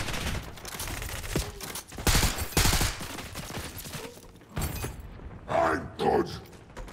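Rapid bursts of gunfire in Call of Duty Black Ops 6 on PS5, several loud volleys and single shots close by with short gaps, a player talking over the shooting.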